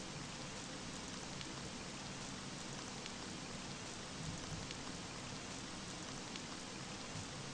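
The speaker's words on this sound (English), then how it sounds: "Just rain." Steady, dense rainfall fills the scene in the horror game The Dark Side of Red Riding Hood, a constant hiss of drops with no other sounds or voices, faint in level throughout.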